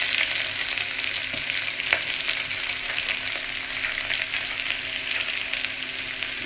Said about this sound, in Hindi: जीरा जैसे क्रैकल हो जाए इसमें डालिए थोड़ा सा लहसुन